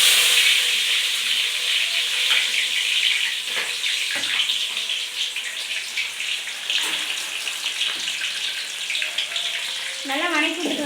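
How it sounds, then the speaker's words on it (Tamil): Onion and chillies sizzle and crackle continuously in hot oil for a tempering, a dense frying hiss with scattered spatters throughout, close and loud. "இப்போ வெங்காயம் மிளகாய் போட்டுக்கலாங்க தாளிப்புக்கு"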